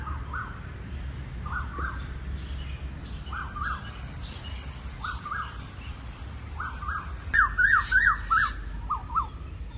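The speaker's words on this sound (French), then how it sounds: "Je ne sais pas si vous voyez l'oiseau qui fait ce bruit." Bird calling near the Ratchaburana and Mahathat temple ruins in Ayutthaya, Thailand: repeated short squawky chirps in pairs, then a louder, brighter burst of calls near the end over steady outdoor background hum.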